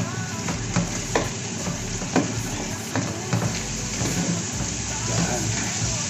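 Cooked food in a pan is stirred with mayonnaise mixed through it. Rhythmic scraping and clinking of a utensil sit over a continuous sizzle, close and moderately loud, with some voice faintly in the background.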